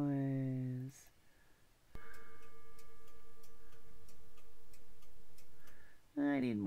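A ticking clock sound effect plays as a steady run of soft, regular ticks over a faint sustained hum, with a person talking just before and just after.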